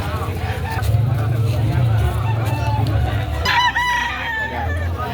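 Bantam chickens at a poultry market in Lemery, Batangas, with steady clucking and repeated nearby crowing over a busy hum of voices and crowd noise.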